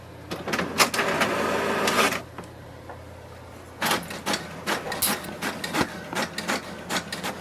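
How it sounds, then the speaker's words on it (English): An HP DeskJet 2652 all-in-one printer printing a page, a steady whirring feed for about two seconds, a pause, then a run of sharp clicking and clunking mechanical bursts nearby. "it will send a command for the printer to print a page"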